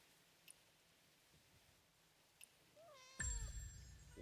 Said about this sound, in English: one of the cats is actually roaming and led me to Meow Meow again